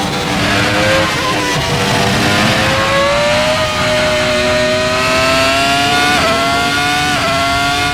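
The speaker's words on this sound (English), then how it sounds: "we can see that the V10 hybrid is able to keep accelerating" F1 2022 McLaren fitted with a V10 hybrid engine accelerating onboard, a loud high-pitched engine wail climbing steadily through the gears, with a couple of brief shift dips, alone and close.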